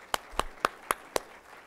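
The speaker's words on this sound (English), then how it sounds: "a quick round of applause for Amy" Five sharp, separate claps ring out at an even pace, a brief and sparse round of applause from a small audience at an indoor presentation.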